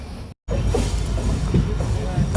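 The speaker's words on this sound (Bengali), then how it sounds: "এখন ট্রেন ঢুকছে বদরপুর জংশন" Steady, loud rumble and rattle aboard the Sairang Express as it pulls into Badarpur Junction, briefly cutting out near the start, with faint voices underneath.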